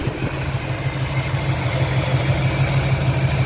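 A 1939 Chevy engine idles after a carburetor swap and an adjustment of the idle mixture screws, giving a steady, close, low throbbing rumble with an even rhythm and no voices.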